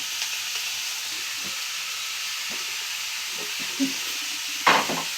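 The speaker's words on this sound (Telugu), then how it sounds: "ఉల్లిపాయలు అయితే వేపేసుకోవడం జరుగుతుంది" Onions fry in a pan, a continuous soft hiss and sizzle with scattered small pops and a brief clatter of stirring toward the end.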